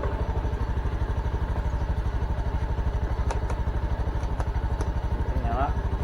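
A Honda Beat scooter engine idles with a steady, rapid, loud putter close by. A few faint clicks sound partway through, and a voice speaks briefly near the end.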